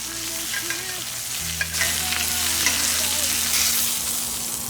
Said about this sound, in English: I'm gonna baste it